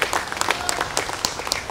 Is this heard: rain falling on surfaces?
no